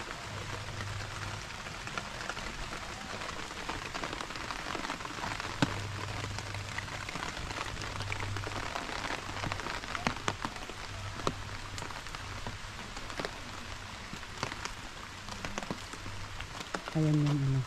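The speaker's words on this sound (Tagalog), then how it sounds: "Kahit umuulan siya" Steady rain patters across the Sunken Garden at Butchart Gardens in Victoria, BC, a dense, even hiss of drops on leaves and paths with occasional sharper drips, while a low hum runs beneath and a voice briefly rises near the end.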